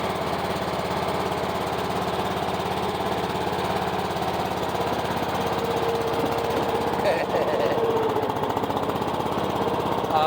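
A Craftsman riding mower engine runs steadily close by with a rough, rapid chugging drone as the machine moves under its own power, holding an even loudness throughout.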